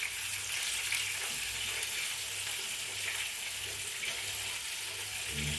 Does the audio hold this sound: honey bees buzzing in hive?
no